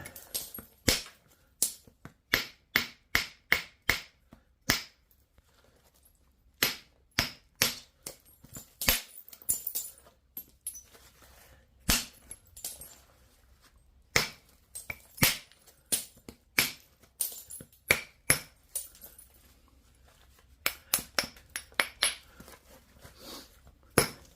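Sharp, irregular clicks and taps of a stone-knapping billet trimming the edges of an Edwards concrete biface, dozens of close, loud strikes in uneven bursts with brief pauses between.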